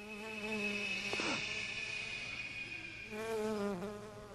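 Swarming bees in the video game Dead Rising give a loud, continuous insect buzz with wavering pitch that swells near the end, heard alone with no talking.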